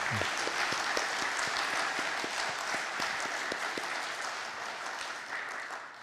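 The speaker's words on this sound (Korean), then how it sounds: "할렐루야 찬양도 위해서 박수 한번 크게 하겠습니다" Church congregation at a Sunday worship service applauding in praise, a steady, dense wash of clapping that fills the room and holds evenly throughout, easing slightly toward the end.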